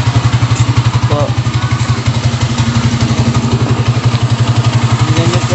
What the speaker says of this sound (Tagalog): Ganyan po ang dinig ng motor ko.